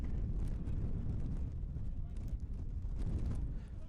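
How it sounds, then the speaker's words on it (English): Strong wind buffets the microphone on a cold November afternoon at a soccer stadium in Toronto, a steady low roar lasting throughout with light speech-like sound mixed in. "And you can hear and see how windy it is."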